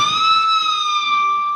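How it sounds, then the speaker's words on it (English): A loud, sustained high electric guitar note produced with a pinch harmonic, bent slowly up and down so the squealing pitch wavers and sags over about a second and a half, alone. "So that bit you bend up and down with the pinch harmonic,"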